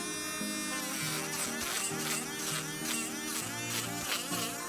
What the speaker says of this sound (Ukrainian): По-перше, включаємо фрезер. І починаємо.